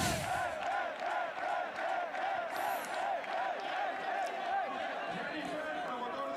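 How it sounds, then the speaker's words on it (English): A crowd gathered beneath the podium steps at a Clio Cup race at Circuit Ricardo Tormo cheers and whoops in a sustained roar, while a commentator speaks over it. "plenty of primal noise from the crowd beneath the steps, so plenty of hubbub"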